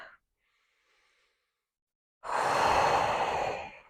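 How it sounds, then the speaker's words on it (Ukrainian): A deep breath taken during a diaphragmatic breathing exercise for pelvic floor recovery: a faint short breath, a pause of near silence, then a loud, airy, close inhale lasting about a second and a half. "Робимо глибокий вдих."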